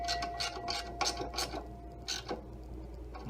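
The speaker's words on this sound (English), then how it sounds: "I'm gonna go ahead and tighten that before I forget." A ratchet tightening the nut on a slotted bracket during a battery upgrade installation. The close, faint clicking and rasping comes in quick repeated strokes, with no talking.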